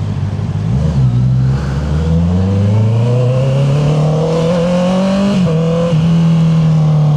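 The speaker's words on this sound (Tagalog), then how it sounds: "may delay daw ang quick shifter auto blip nitong e-clutch" A Honda CB650R motorcycle with E-Clutch and quick shifter revs loudly up and down nearby, its engine note rising steadily through the gears with brief auto-blip dips between shifts, no talking.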